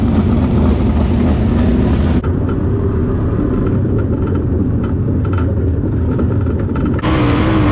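A 900-plus horsepower, 1,400-pound sprint car roars at full throttle on the Lawrenceburg Speedway dirt oval during hot laps, loud and close, its engine note dropping sharply partway through as it lifts, then surging again.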